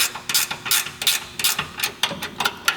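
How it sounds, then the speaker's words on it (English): A ratchet tightens 3/8 bolts on a Jeep trackbar bracket while a JKS front trackbar reinforcement kit is installed: steady bursts of close, crisp pawl clicking, about eight even strokes in a row. "Now we're going to evenly tighten these 3/8 bolts"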